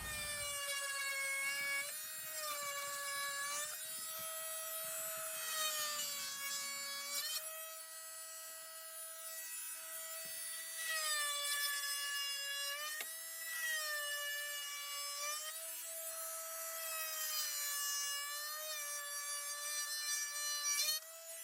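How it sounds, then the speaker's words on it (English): Porter Cable oscillating multi-tool cutting during a Honda Talon 1000 X4 lower door install, a high buzzing whine that rises and dips in repeated passes for about twenty seconds, close and steady with no talking. "it's just a oscillating multi-tool from Porter Cable"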